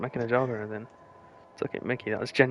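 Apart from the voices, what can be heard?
None of the usual background noises is heard.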